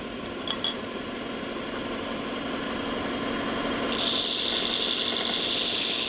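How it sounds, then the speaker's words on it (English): A power sander runs with a steady whirring hum while a small part held in pliers is sanded against it, the grinding growing brighter and louder partway through, close up and without talk. "grab it with a pair of pliers here, and I'm going to sand like that"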